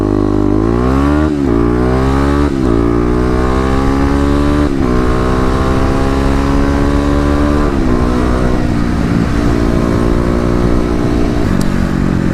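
Kawasaki KLX250 dual-sport motorcycle with new mods, accelerating hard on a road: loud, close engine revving up through several gear changes with rising pitch, sustained throughout without talk.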